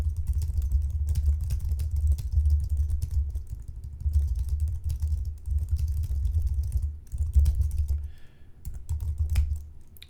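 Keyboard typing on a computer while entering a query about running a meta-analysis in R, a steady patter of keystrokes in bursts with brief pauses, close and fairly loud over a low background hum.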